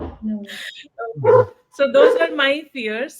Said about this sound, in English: So sorry about my dogs.